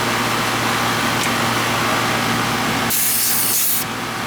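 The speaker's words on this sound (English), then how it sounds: "hit it with the garden hose and spray this coil down" A garden hose sprays water onto an old outdoor AC condenser coil caked in dirt and mulch, a steady close hiss that runs throughout and briefly turns brighter and harsher near the end.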